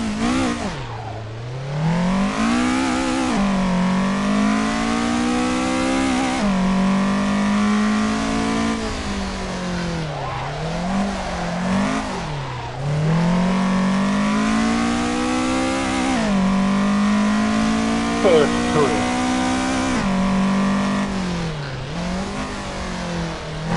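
A drift car in the racing game Assetto Corsa, its engine revving up and down repeatedly in sweeping rises and falls, loud and continuous with short lifts between bursts of throttle.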